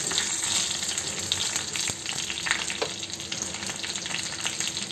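Tempering spices sizzling in a spoonful of hot oil for a roasted eggplant chutney, giving a dense, continuous crackling hiss up close with small pops scattered through it.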